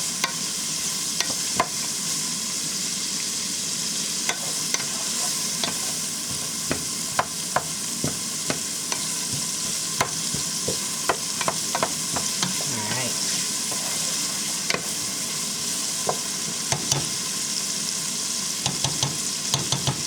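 Shrimp chop suey, low-carb and Nicaraguan style, sizzling steadily in a frying pan while a utensil scrapes and stirs it in frequent irregular clicks and scrapes, close up, with no talking.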